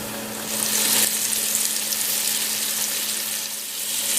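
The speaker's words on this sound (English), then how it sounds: "Wrap up the whole piece of meat in starch and put it in oil." Starch-coated pieces of meat fry in oil for a Chinese dish, producing a loud, continuous close-up sizzle and bubbling hiss that swells slightly partway through, with no talking.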